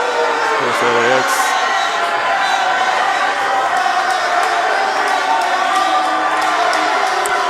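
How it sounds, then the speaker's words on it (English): Wrestling arena crowd at a Fighting Evolution Wrestling tag-team match, a steady, dense roar of cheering and whooping with shouts rising out of it, loud and continuous throughout. "And listen to this crowd"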